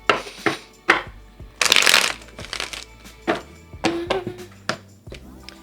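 Tarot cards being shuffled and handled in short bursts of riffling and slapping, with a brief soft vocal sound partway through; close and fairly loud.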